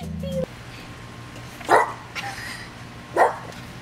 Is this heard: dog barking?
yes